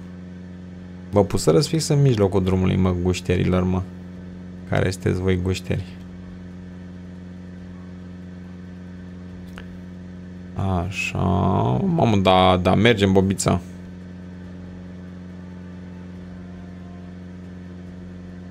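A car engine hums at a steady, even drone throughout while driving, with someone talking over it in two bursts.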